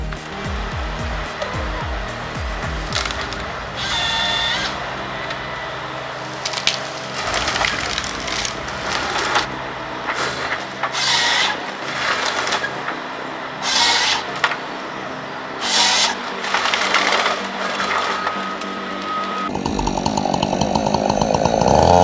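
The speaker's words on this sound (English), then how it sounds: "Paired with a Waratah H415 head, this beast doesn't ask permission. It just slices thick logs clean with brutal precision." A John Deere 688E harvester fitted with a Waratah H415 head cuts thick logs. A loud, continuous whining saw and engine roar rises and falls with bursts of crunching through wood, and the sound shifts abruptly near the end.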